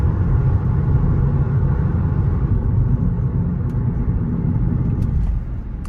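Audi A3 carrying an S3 engine swap cruising on a highway, a steady loud low rumble of engine and road noise filling the cabin throughout, easing slightly near the end, with no talking.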